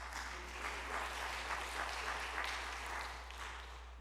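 Audience applause at a fundraiser event, a steady wash of many hands clapping that holds evenly for several seconds without voices over it.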